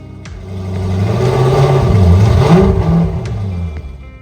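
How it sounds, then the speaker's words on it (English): A pontoon boat's mid-pitched motor is test run, swelling in a smooth rise and fall, loudest in the middle, with a faint whirring undertone and brief clicks. "Lastly, we test the engine's functionality."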